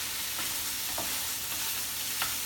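Fish laab ingredients with lemon leaves being stirred and mixed in a bowl, a steady close rustling and soft wet churning with faint rhythmic scrapes, no voices.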